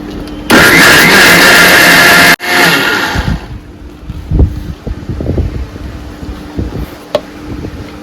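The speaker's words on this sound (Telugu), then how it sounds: "ఇది మెత్తగా రుబ్బుకోవడానికి కొంచెం వాటర్ పడతా ఉంటాయండి." A mixer grinder grinds coconut with water into a smooth paste in a loud two-second burst, followed by clattering and thumping kitchen sounds as the jar settles.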